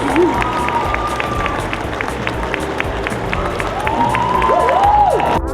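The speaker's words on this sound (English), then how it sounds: "Let's give a big round of applause" A crowd at a fashion design awards event claps and cheers for a first-prize winner, with scattered shouts and whoops over the dense applause and some background music or voices mixed in.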